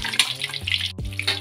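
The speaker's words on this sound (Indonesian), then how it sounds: "Goreng sampai warnanya itu kecoklatan ya." Chicken katsu coated in panko breadcrumbs deep-frying in hot oil, a close, loud crackling sizzle with bursts of bubbling.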